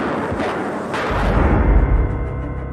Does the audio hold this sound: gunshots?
yes